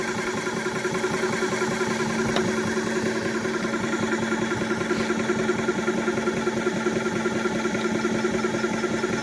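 Hand pump filling a .25 caliber Air Venturi Avenger air rifle toward about 4,300 psi, shaking the table it rests on: a steady, loud mechanical hum and rattle with a low vibrating drone running throughout, no talk.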